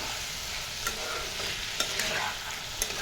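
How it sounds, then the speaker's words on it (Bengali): Potatoes frying in oil in a pan for a Bengali dish, a continuous moderate sizzle with a few sharp scraping stirs spread through the clip. "এর মধ্যেই আলুগুলো দিয়ে দিচ্ছি এটাকে একটু হালকা নাড়াচাড়া করবো"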